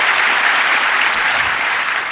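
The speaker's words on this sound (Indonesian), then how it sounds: "Berikan tepuk tangan kita untuk Tuhan kita." A church congregation breaks into loud, dense applause, a steady wash of clapping that holds for a couple of seconds without speech.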